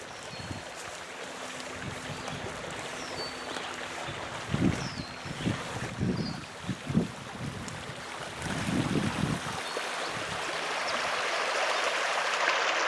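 A small stream flows steadily through a wild, overgrown waterside spot, a soft continuous wash of water with wind brushing the microphone and a few brief low bumps partway through.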